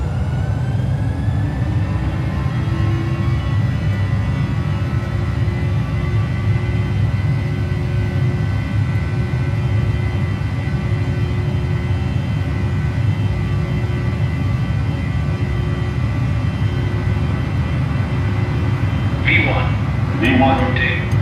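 Airliner engines spooling to takeoff thrust in a flight simulator game, a loud, steady roar with a rising whine and deep rumble throughout, and a few brief clicks near the end.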